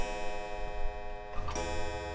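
A clock ticks steadily and close in the video game Resident Evil 7, over droning game ambience, with a brief louder mechanical clunk near the end.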